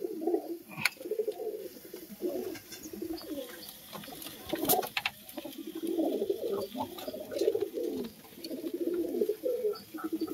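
Andhra pigeons coo in repeated low, throaty phrases, several birds overlapping close by in a steady rhythm, with occasional brief clicks and rustles from the loft.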